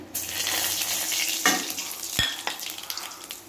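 Whole spices for phoron tempering hit hot oil in a pan after fried taro and eggplant are lifted out, giving a steady close sizzle with a few sharp pops and stirring clatters.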